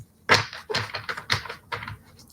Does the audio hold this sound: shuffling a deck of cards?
yes